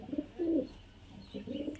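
Pigeons, including Giribaz high-flyers, coo softly at close range in two short throaty bursts separated by a brief pause.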